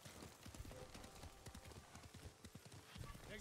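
Horse hooves clip-clop at a steady, quick rhythm as the mount runs through a yellow-leaved forest in the video game Ghost of Tsushima, with rustling leaves and a dense, hissy background.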